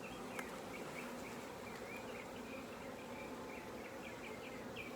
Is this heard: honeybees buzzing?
yes